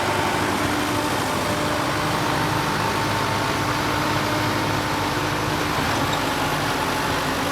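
A steady tractor engine, a 90-horsepower Preet pulling a 10-foot super seeder, drones on without a break, a low, even rumble holding the same pace throughout with no voices.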